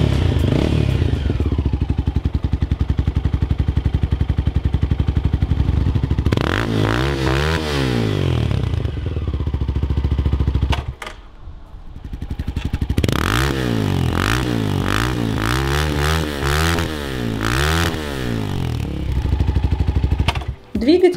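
A 2018 Shineray Z1 motorcycle engine with a straight-through exhaust idles and revs repeatedly with a loud, raw exhaust note, rising and falling in sharp bursts close to the listener.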